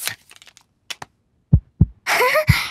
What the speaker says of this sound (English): Dr. Polar Bear can hear Peppa's heart beating.